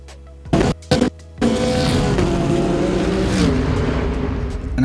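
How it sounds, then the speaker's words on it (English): Race car at Indianapolis roaring past at close range, with a deep added bass impact hit layered in; a few short bursts open before a sustained loud engine roar carries through to the end. "this number 7 bass impact really does well for me"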